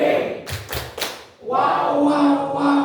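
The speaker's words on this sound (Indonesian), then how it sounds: "Saya mulai tepuk wow." A group clapping chant in a teachers' positive-culture session: three or four loud rhythmic claps in quick succession, followed by voices chanting together.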